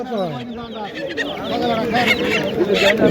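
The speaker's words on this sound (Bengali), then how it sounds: "প্রচুর হাঁস মুরগি উঠেছে আপনারা দেখছেন এখানে" Clucking chickens and honking ducks crowd together, nearby and overlapping, with people talking underneath at a busy village poultry market.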